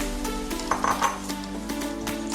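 Chopped cabbage tipped into a large cooking vessel, giving a close run of light clinks and rustling bumps against the metal over a steady low background hum, with no talking.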